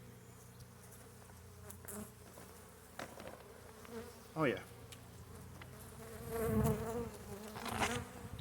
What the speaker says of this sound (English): Beautiful cluster of bees.